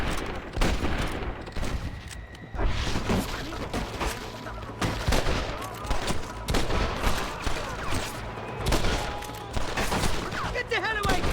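Gunfire rattles through a video game battle in dense, rapid bursts and volleys, with sharp cracks and heavier booms layered over one another almost without pause for the whole stretch.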